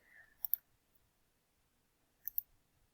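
Two pairs of sharp computer mouse clicks, one near the start and another about two seconds later, small and close against a near-silent room.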